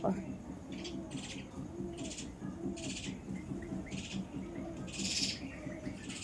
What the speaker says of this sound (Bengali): পেঁচার ডাক শুনতে পাচ্ছি